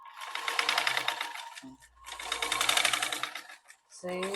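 A sewing machine runs two quick stretches of straight stitching along a kurti strap, close and clear, with a short pause between them and a brief voice at the end.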